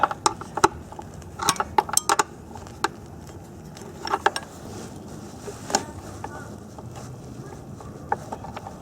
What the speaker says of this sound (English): I'm just using a hand wrench